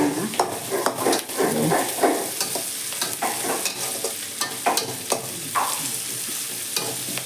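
Grated coconut, curry leaves and herbs fry in a pan for a Tulu festive dish, making a moderate sizzle with repeated stirring scrapes and taps of a spoon against the pan, and no talk.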